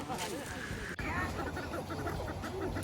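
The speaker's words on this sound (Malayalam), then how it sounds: "ഇവിടെ താറാവ് കുഞ്ഞുങ്ങളുണ്ട്." Ducklings peep in quick, high, repeated chirps against a busy background of voices and rustling, on Phillip Island, Australia.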